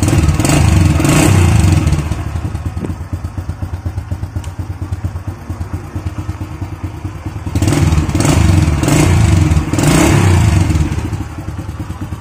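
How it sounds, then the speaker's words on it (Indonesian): A Honda Astrea Grand motorcycle with its original exhaust idles with a throbbing, lumpy rumble, swelling into louder revs twice near the start and again toward the end, close and loud, no talking. "Ini suara knalpot original."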